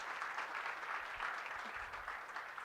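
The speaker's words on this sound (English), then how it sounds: "please give another hand of applause for Sam and the rest of our speakers this morning" Applause from a conference audience for a morning's speakers at a scientific software summit, a soft, distant, even patter of clapping with no talk over it.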